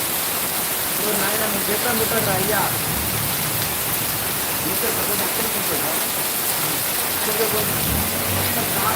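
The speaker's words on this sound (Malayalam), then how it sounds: "ശക്തമായിട്ട് മഴ രാവിലെ" Heavy morning rain in Hyderabad pours down in a dense, steady roar from start to finish, with faint voices murmuring beneath it.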